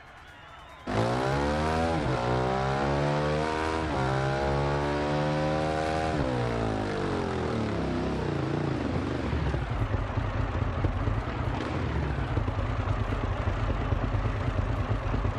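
A 2015 Ducati Scrambler 800 Icon motorcycle fires up and revs hard, climbing through the gears with rising engine pitch at each shift, then settles into a loud, rough roar as it keeps pulling.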